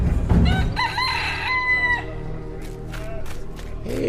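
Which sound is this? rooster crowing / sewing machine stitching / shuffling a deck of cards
rooster crowing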